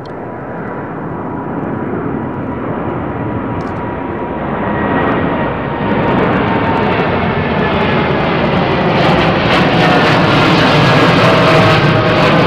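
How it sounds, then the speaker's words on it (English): A Boeing Dreamliner jet departs Heathrow's runway 09R, its broad engine roar building steadily and growing louder over about twelve seconds, with no voices. "I know I've got a Dreamliner coming out behind me"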